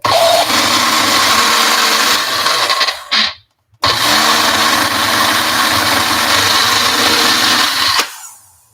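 Electric grinder pulverizing dried cayenne peppers, a loud close whirring drone that runs for about three seconds, cuts out briefly, then resumes steadily before stopping near the end.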